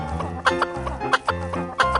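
Cartoon chicken clucks in a children's animal cartoon, three evenly spaced pairs of bright, nasal clucks, loud and close with a steady backing tune underneath.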